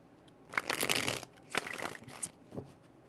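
Playing cards shuffled in a few quick riffle bursts, crisp papery flutters close by with short pauses between them, and no talking.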